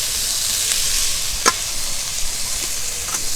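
Onion with grated carrot and potato frying in a pan for a layered kachori filling, a steady close sizzle broken by a few sharp stirring scrapes and clinks of the spoon.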